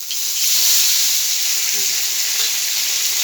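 Whole cumin with a ground paste of cumin, ginger and green chili sizzles loudly in hot oil, a bright continuous hiss close by that holds steady for a few seconds.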